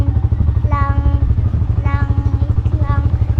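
A motorcycle engine putters at a steady, close idle, its rapid low thumping pulses continuing throughout while people talk over it in bursts.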